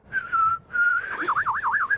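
A person whistles in imitation of birdsong on a morning show, two sustained clear notes followed by a rapid warbling trill, loud and near with no talk over it.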